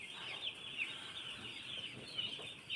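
Poultry chickens in a heated shed cluck softly and continuously at a distance, a faint, busy flock chatter with no talking.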